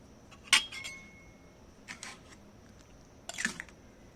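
A spoon clinks and scrapes against a pot while ghughni, a spiced dried-pea curry, is mixed after a ground spice powder is added; a few sharp metallic taps spaced apart over quiet kitchen background.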